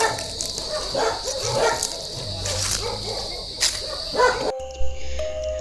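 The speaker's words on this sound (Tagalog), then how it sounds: "Ini aso nila." A dog barks repeatedly at a moderate distance at an abandoned rest house, over a steady background of insect chirring, the barks irregular and fairly loud.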